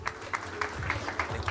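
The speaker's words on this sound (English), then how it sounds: "Round of applause for the panelists." Audience at a tech conference summit applauding the panelists, a short, moderate burst of clapping with a hum underneath and faint voices mixed in.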